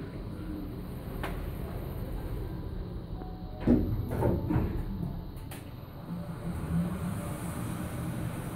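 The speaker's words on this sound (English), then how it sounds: "It's a Kone Ecodisc lift." Kone Ecodisc lift at the Radisson Blu in Guildford travelling between floors, a steady low mechanical hum throughout with a few soft thuds and a brief burst of door-sliding noise in the middle.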